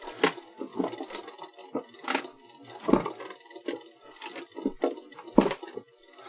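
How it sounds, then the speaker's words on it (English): A shiatsu massager motor built into a Halloween electric chair prop whirs and rattles in rhythmic, pulsing kneading cycles, fairly close and moderately quiet, before the motor cuts out partway through the sequence. "We are now back to the shiatsu motor cutting out in the middle of the sequence."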